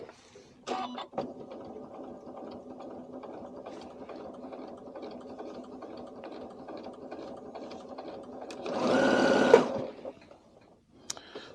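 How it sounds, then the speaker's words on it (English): A Janome sewing machine with a drop-in bobbin stitches fabric in a steady, close mechanical whir lasting several seconds, ending in a louder burst of fast stitching before it stops. "we're going to sew some fabric"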